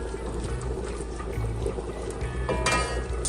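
Sauce poured into a pan for Jamaican brown stew fish, a soft liquid pour with a light trickle, under steady background noise, with a brief clink near the end.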